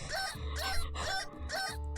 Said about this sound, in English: that is not a normal chicken. That sounds exactly like those, like squeezy chickens